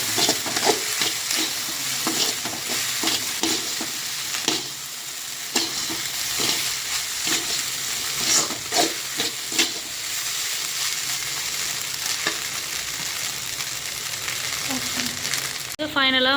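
Fried rice with curry leaves and coriander stir-fried in a pan, a continuous loud sizzle broken by repeated scraping and tossing strokes of the spatula.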